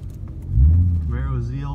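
A Chevrolet Camaro ZL1 at a drag strip gives off a deep engine rumble that swells sharply partway through and then holds steady, with faint voices in the background.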